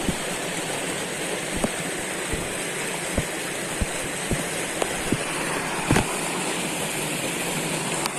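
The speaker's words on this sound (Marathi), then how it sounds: "पाणी एवढं होतं मस्त वरतून खूप पाणी येतं" Heavy monsoon waterfall in the Konkan during the first rains, a steady broadband roar of water pouring down from above, continuous and fairly close, with a few faint clicks and knocks over the top and no speech.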